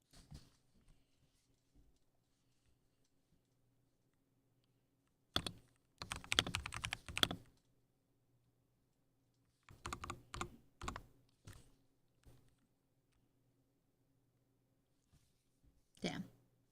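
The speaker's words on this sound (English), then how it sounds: "The keyboard sound is so nice." Typing on a computer keyboard with a microphone placed right beside it: scattered bursts of crisp, close key clacks separated by quiet gaps, with occasional faint voice.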